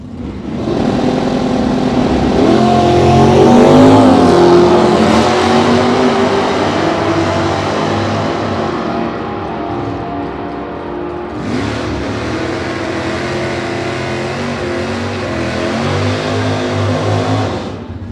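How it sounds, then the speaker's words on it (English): A 1967 Camaro SS396 roars loudly past at a drag strip, its V8 revving hard through gear changes, with a second wave of engine noise rising again partway through. "Doug Gibson, 67 Camaro SS396."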